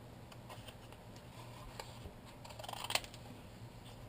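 Scissors snip through a cardboard template in quiet, close, intermittent cuts, with a sharper click near the end.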